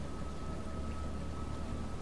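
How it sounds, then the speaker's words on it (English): Steady rainfall in the video game Atom RPG, a continuous broadband hiss with a faint low rumble underneath, even and unbroken throughout with no talk. "I just noticed, it's raining."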